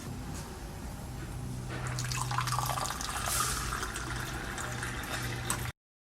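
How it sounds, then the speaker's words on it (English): Purified drinking water runs steadily from school taps fed by a refrigerated purifier, a continuous splashing hiss with faint drips, growing slightly fuller partway through and cutting off abruptly near the end. "the cool water comes out of these taps"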